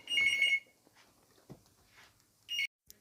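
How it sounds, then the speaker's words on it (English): A telephone rings with an incoming call: a loud electronic ring lasts about half a second, then a quiet pause, then a second short ring burst near the end. "Phone call again."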